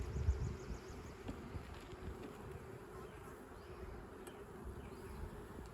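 Honeybees buzz around an opened hive during a frame inspection, a steady close drone with faint wingbeat whine and no talk.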